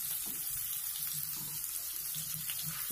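Fish frying in a pan, a thick fillet cooking on low heat, giving a faint, steady hiss and crackle with soft, scattered pops and light clatter.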